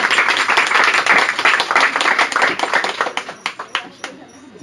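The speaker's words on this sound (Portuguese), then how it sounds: "Uma salva de palmas para ele." An audience applauds loudly, a dense wash of clapping that thins out into scattered claps toward the end.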